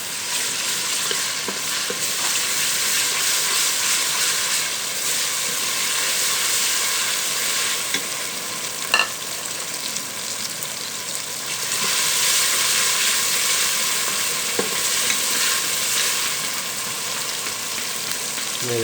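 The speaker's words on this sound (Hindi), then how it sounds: "ये हमारा अदरक लहसुन ब्राउन हो चुका" Ginger garlic paste sizzles and spatters steadily in hot oil in a pan, a continuous close frying hiss with occasional stirring clicks, no voices.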